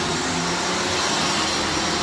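A vacuum cleaner roars steadily over thick, dirty carpet, a loud continuous broadband whoosh with no pauses, heard alone and close.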